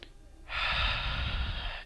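A deep diaphragmatic breath during a pelvic floor exercise: one long, close, breathy rush of air lasting well over a second after a brief quiet start.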